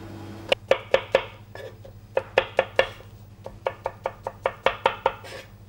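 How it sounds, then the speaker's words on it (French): A knife chops porcini mushrooms very thinly on a board, sharp quick knocks in fast runs of three to five strokes with brief pauses, close and crisp with no voices. "Alors les cèpes, pareil, il faut les couper"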